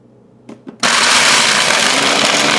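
A Ninja Detect blender starts up with a couple of short clicks, then crushes ice in a loud, steady, dense roar that runs on without a break.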